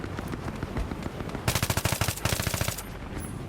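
Battlefield 3 gunfire: a loud automatic weapon firing rapid evenly spaced shots in two close bursts over steady game background noise.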